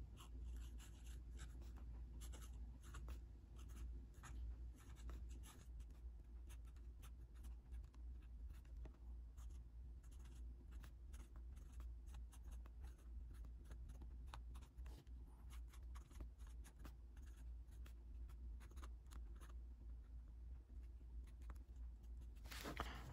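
A TWSBI Eco fountain pen with a stub nib writing on paper, a faint continuous scratchy glide of the nib running steadily throughout with no talking.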